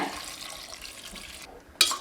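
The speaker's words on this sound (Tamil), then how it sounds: "இந்த காய் வேகிறதுக்கு ஒரு 500 ml தண்ணி விட்டுருக்கேங்க." Water pours steadily into a pressure cooker for a moment, stops, then a brief sharp metallic clatter follows.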